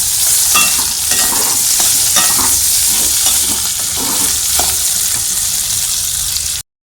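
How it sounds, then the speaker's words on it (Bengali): Potatoes frying in a pan, a loud close hiss of oil with light stirring clinks, steady for several seconds before cutting off abruptly. "তো এই যে আলু ভাজা হচ্ছে এখন।"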